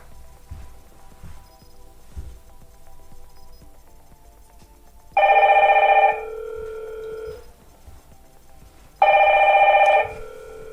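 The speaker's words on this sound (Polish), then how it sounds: "Telefon dzwoni, jest nazwa Hit Connect" A phone ringtone from an incoming Hik-Connect video intercom call, Hikvision DS-KH6320-WTE2 indoor station, sounds twice, two loud electronic bursts a few seconds apart, over quiet background noise.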